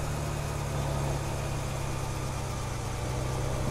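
A fast tractor with a PTO, in Farming Simulator 2015, runs its engine in a steady, low, unbroken drone, loud and constant throughout with no talking.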